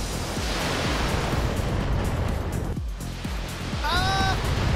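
A barrage of missiles in the video game BattleTech: dense continuous roaring rush with scattered thumps of impacts, with a short electronic tone sequence near the end.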